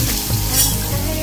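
Black cumin seeds sizzle in hot oil in a pan, giving a brief, dense, even hiss that stays close and loud from start to finish.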